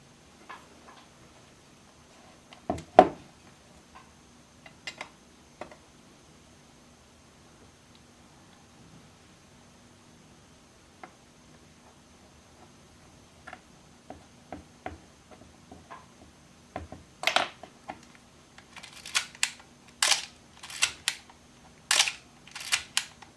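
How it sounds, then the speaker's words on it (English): A late-1970s Canon A-1 SLR camera, under repair of its electromagnetic shutter, fires its shutter in sharp mechanical clicks. A single loud snap comes early, then scattered quieter ticks, then a quick run of crisp shutter releases near the end. "as soon as you fire the shutter, a little bit of a charge goes through the electromagnet and releases it"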